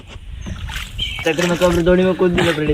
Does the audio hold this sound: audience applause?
no